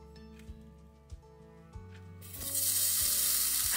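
Hot sandwich toasting in a pan at an RV park campsite, a faint sizzle under a low steady hum with a few soft knocks, then swelling into a loud bright frying hiss for the last second and a half.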